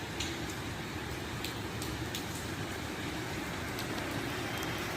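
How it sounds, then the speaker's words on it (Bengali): Rain pours steadily during a stormy evening with lightning, a constant wash of noise with scattered sharp drop ticks throughout. "ওই দেখো বন্ধু জোর ঝড় উঠেছে, দেখো গাছ পাতা জোরসে বৃষ্টি নিয়ে গেল।"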